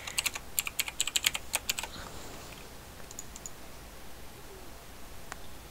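Quick bursts of typing on a computer keyboard, close and soft, with rapid clicks for about two seconds and a few scattered keystrokes afterward in a quiet room.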